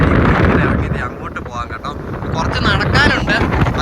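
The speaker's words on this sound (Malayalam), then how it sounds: "നല്ല രീതിക്ക് കാറ്റുണ്ട് കേട്ടോ" Strong wind buffets the microphone in loud, continuous gusts, while a person speaks underneath the rumble.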